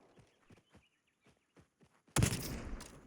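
Gunfire erupts in the video game Hawked: quiet footsteps patter first, then a sudden loud burst of shots breaks in and rolls on to the end.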